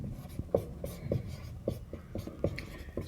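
Pen or chalk writes out a maths solution, producing a series of close, soft scratchy strokes and light taps in an uneven rhythm, with no voice over them.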